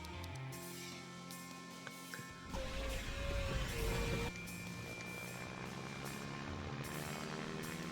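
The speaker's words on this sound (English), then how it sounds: "now we're gonna go back to our stock bush plane" Propeller drone of a stock bush plane in the SimplePlanes VR flight game, a steady engine hum throughout, swelling louder with a rising whine for a couple of seconds mid-run before settling back to a constant drone.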